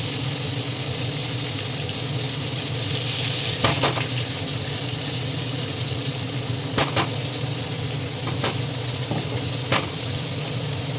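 Onion paste and garlic paste sizzle loudly in a hot pan with a kitchen chimney hood running, a constant close hiss broken by a few sharp crackles and stirring clicks, with no talking.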